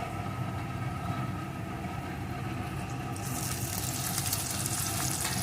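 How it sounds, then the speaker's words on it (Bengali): Chopped onion frying in oil with garlic cloves, a dense steady sizzle that brightens and grows hissier partway through, with no voices. "পেঁয়াজ কুচিটাও একটু ভেজে নেব"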